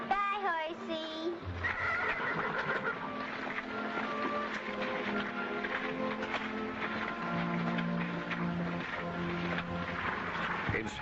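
A horse gives a shrill whinny at the start, followed by a steady mix of background sounds and music, with people talking at times.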